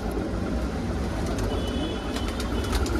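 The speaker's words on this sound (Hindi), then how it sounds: "सारे मकोए प्योर पंजाबी कबूतर" Pure Punjabi makoe pigeons coo softly and repeatedly under a loud, steady rumbling background, with faint higher calls in a few places and no talk.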